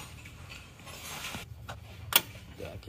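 Sharp mechanical clicks and a ratcheting rattle come from a diesel car engine's fuel system as the bleed bolt is opened and the fuel pump is worked, on a cheap car that had not run for three years. One louder click stands out near the end.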